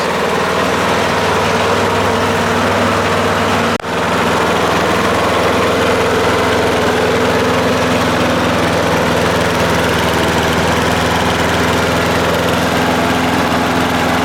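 Craftsman self-propelled lawn mower engine running close by, a loud, steady droning putter that holds constant throughout with one brief dip early on.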